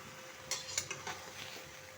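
A spoon scrapes and clinks gently in a pot while beef biryani rice is mixed, a few soft metallic taps and stirring rustles, quiet and close with no talking.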